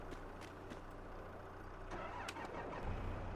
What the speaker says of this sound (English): we can turn off this tractor